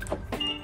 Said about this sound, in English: So click the on and off button on the key fob. So we're gonna lock, unlock.